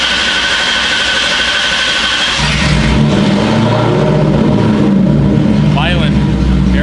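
A car engine revs hard at wide open throttle through a very loud exhaust, a dense continuous roar that swells further partway through, with a voice faintly audible underneath.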